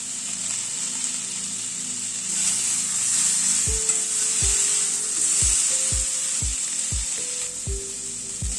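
Pointed gourd and pumpkin fry in a pan with a steady loud sizzle, while a utensil scrapes and stirs in a run of sharp, regular knocks against the pan through the second half.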